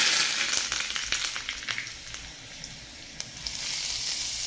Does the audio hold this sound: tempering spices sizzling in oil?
yes